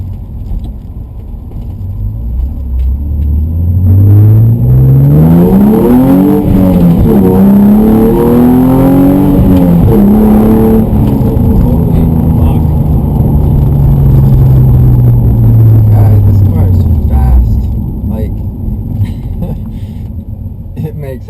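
A modified car with about 430 horsepower makes a full acceleration pull, its engine note climbing loud and close, then dropping into a long falling tone as it eases off.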